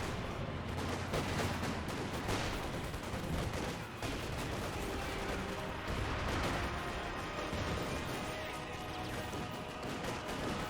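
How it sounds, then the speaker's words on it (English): Grenadiers fire LMG machine guns in a Company of Heroes 2 battle, dense rattling bursts and scattered gunshots layered over continuous loud combat noise with occasional heavier impacts. "Grenadiers firing away with the LMGs."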